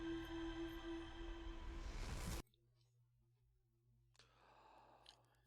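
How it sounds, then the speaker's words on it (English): A character wakes from meditation in the video game Outer Wilds and draws a soft, gentle breath. It follows a loud ambient drone that cuts off abruptly, leaving near silence before the quiet breath. "it's just like a nice wake up breath instead of a gasp for, oh holy crap, we're alive again"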